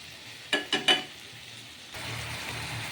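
Spice powders dropped into ginger and garlic frying in oil for a tilapia curry: three quick clinking taps against the pan, then a soft steady sizzle that rises slightly and continues, quiet and close.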